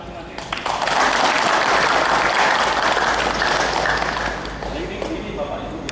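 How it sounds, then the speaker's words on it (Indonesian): An audience at an ISO 9001 induction training session claps together in a loud, dense burst of applause that holds for several seconds before easing slightly, with voices murmuring underneath. "Silakan tepuk tangan masing-masing."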